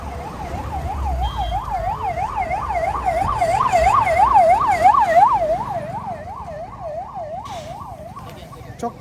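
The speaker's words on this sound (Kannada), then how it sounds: "ಚೊಕ್ ಫಾಸ್ಟ್ ಅದು ಆಂಬುಲೆನ್ಸ್." Ambulance siren wailing in a fast rising-and-falling pattern as the vehicle passes along a mountain road near Manali, loud and close, then fading away over road rumble.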